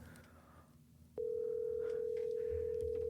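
A steady, loud electronic telephone tone starts abruptly about a second in and holds unbroken during a call, after faint background murmur.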